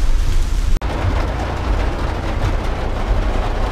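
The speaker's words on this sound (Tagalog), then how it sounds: "sobrang lakas ng ulan at hindi pa tayo makababa sa ating sasakyan dahil nga po ay malakas ng ulan" Heavy rain pounds steadily on a parked vehicle in a downpour, a dense, loud, continuous wash with one brief dropout near the start and no talking.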